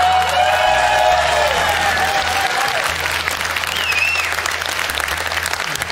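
Studio audience at a German TV quiz show applauding steadily for several seconds, a dense, close wash of clapping with a faint tone and some voices underneath.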